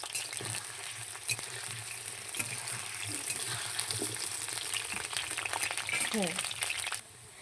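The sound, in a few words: potatoes frying in oil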